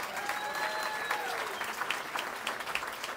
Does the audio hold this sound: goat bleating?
no